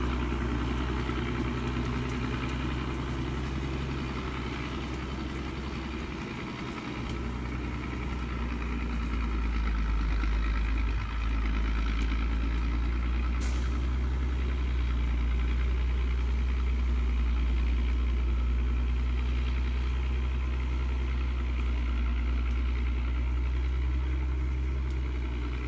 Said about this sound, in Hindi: पहाड़ों और जंगलों में गूंजती इंजन की गर्जना के साथ स्टील की मशीन ने अपनी अविश्वसनीय शक्ति दिखाई